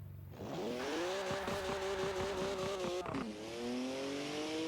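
A car in the Forza Horizon racing game accelerates hard, its engine whine climbing steadily in pitch, dipping briefly at a gear change and then rising again, loud and continuous with no talking.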